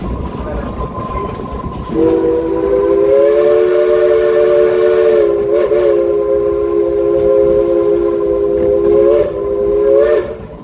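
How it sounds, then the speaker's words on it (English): A steam locomotive on the Frisco Silver Dollar Line at Silver Dollar City sounds a long, loud, chime-like whistle held for about eight seconds with slight wavers, over the rumble of the train. "know that this next whistle goes out to y'all."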